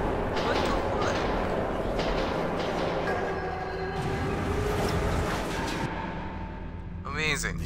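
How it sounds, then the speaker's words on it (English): A ghost train rumbles through a tunnel in Metro Redux, a continuous loud rolling roar that slowly fades, while a voice speaks over it. "It's a fucking ghost train!"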